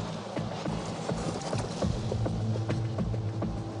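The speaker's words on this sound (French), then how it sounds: "Le cheval prend le temps de bien sauter." Hooves of a show-jumping horse thud and clip-clop in an irregular rhythm at moderate distance on a jumping course, with a steady background murmur of arena crowd noise.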